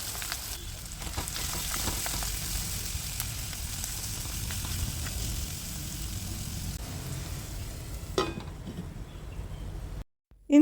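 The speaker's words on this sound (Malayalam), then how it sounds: "ഇനി അതേ വെളിച്ചെണ്ണയിലേക്ക് തന്നെ നമ്മളിതാ കക്കയിറച്ചി ഇട്ട് കൊടുക്കുകയാണ് കേട്ടോ ചെയ്യുന്നത്." Clam meat frying in coconut oil, making a dense, continuous crackling sizzle up close, with a sharper pop near the end before the sound cuts out abruptly, and no talking.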